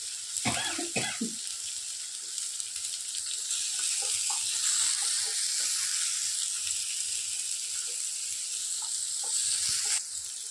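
Chopped onion frying in a pan for a flattened-rice poha dish, a loud continuous sizzle that swells as the onion hits the oil, with a few sharp clatters near the start and a brief knock toward the end.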